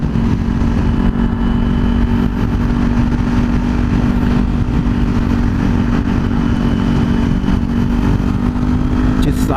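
Kawasaki Z400 motorcycle engine running steadily and loud throughout while riding on city roads, a constant mid-pitched drone with no clear distinct gear shift.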